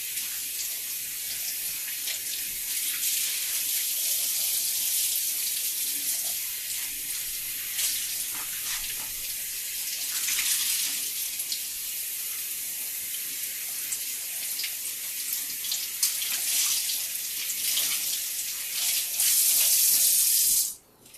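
Water streams and splashes steadily while tumbled plastic puzzle-cube pieces are rinsed and squeezed out, a continuous hissing gush that swells briefly near the end before stopping abruptly.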